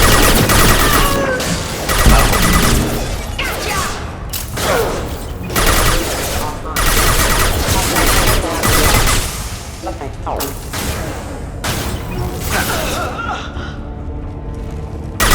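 Sustained gunfire from Mass Effect Legendary Edition, with dense volleys, bursts and booming impacts running continuously and loudly throughout, and voices calling out amid the battle.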